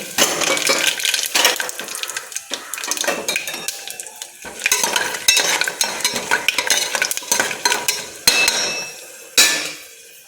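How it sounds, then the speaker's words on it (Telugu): Whole spices frying in a pan, with steady crackling broken by frequent metal clinks and scrapes from stirring, close and fairly loud, no voices. "ముందుగా మసాలా దినుసులు వేగనివ్వాలి"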